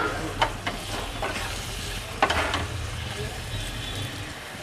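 Potatoes frying with spices in a pan for Bengali ghugni, an even close sizzle with a couple of sharp spatula scrapes and clacks as they are stirred, no clear talk over it.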